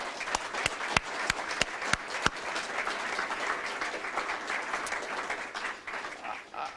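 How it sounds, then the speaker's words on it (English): An audience at a gala dinner applauds, opening with a few sharp, distinct claps before swelling into a dense, even round of clapping that tapers slightly at the end. "So please join me in a round of applause for Gene."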